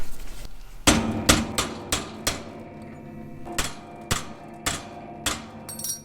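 A hammer strikes a pin into a quick hitch bushing of a Terra King material collection system, about a dozen crisp metallic blows in a fairly steady rhythm, close and loud with short ringing decays.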